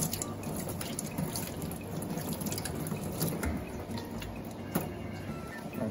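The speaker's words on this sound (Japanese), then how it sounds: "まずは、軽く水洗いして、こう、ぬめりを" A slimy northern fish from Hokkaido's Oshima Peninsula rinsed under a running kitchen tap, steady splashing water with soft drips and hand movements, close and even throughout.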